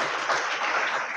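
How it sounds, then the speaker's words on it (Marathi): An audience at a college Marathi literary society inauguration applauding to welcome guests, a brief steady wash of many hands clapping at moderate distance. "आपणही पाहुण्यांचं टाळ्या वाजवून स्वागत करावं"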